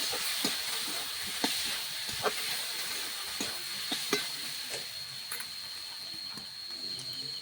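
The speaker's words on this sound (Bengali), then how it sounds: "আলু আর ছাতুর সাথে ভালো করে মশলা কষিয়ে নেব।" Ground cumin, coriander and Kashmiri red chilli powder fry with potatoes and wild mushrooms in a pan, a steady close hiss and sizzle broken by irregular scraping stirs, with no talking.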